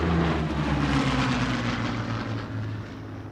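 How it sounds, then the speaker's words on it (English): Two Second World War fighters, a Hawker Hurricane and a Supermarine Spitfire, fly together over an airshow, their piston engines producing a loud, steady droning roar with a low harmonic hum that fades slightly toward the end. "And finally, the Hurricane and the Spitfire together."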